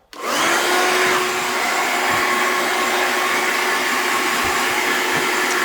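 A hair dryer switches on and blasts loudly and close, drying freshly buzz-cut hair, its steady whine holding without a break.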